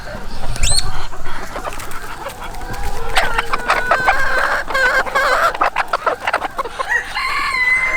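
Red roosters cluck and call repeatedly nearby, with a rising crow-like cry early on and a busy stretch of overlapping clucks afterward.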